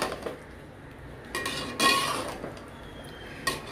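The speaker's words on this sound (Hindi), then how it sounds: "इसको अच्छे से संभाल के हिलाना है, चने फूटने नहीं चाहिए।" Metal spoon scraping and clinking against a pot while softly boiled chickpeas are gently stirred for kalimirch chole, a few sharp knocks and scrapes over a quiet kitchen background.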